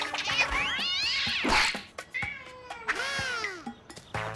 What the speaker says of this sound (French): Un chat coincé dans un arbre?